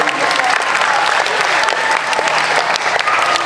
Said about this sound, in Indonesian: kita berikan aplaus, tepuk tangan buat penampilan hari ini